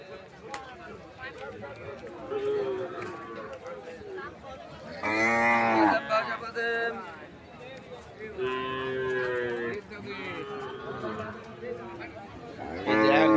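Calves and cattle of local, Sahiwal, Sindhi and cross breeds moo repeatedly at a livestock market. Several loud, drawn-out lows rise over a steady crowd murmur while people talk nearby.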